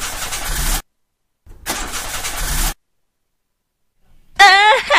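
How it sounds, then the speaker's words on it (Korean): A car engine restarts in a horror video game: two separate bursts of cranking, each cut off by silence, are followed by a third attempt. A voice rises briefly near the end. "다시 시동 걸 테니까."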